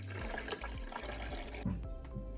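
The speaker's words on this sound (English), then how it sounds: "Now we're going to be pouring the water into the coffee maker" Water poured into a coffee maker's reservoir, a steady close splashing trickle filling the chamber that thins and changes pitch near the end.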